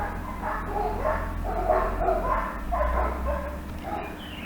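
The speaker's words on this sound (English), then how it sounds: "The dogs are going mad outside" Dogs barking and yipping somewhere outside, repeated short calls at a moderate distance over a steady low background hum.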